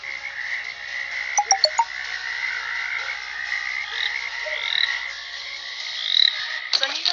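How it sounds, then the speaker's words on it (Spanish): Frog croaking from a video game, a series of clear croaks and chirps repeating over a constant ambient background, fairly close and with no talking. "Rana."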